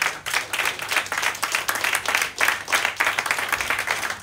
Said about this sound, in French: On peut les applaudir encore une fois, s'il vous plaît.